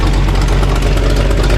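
Idling Dodge truck engine with an exhaust leak at the header gasket, a steady loud low rumble with a faint rapid ticking texture running continuously throughout.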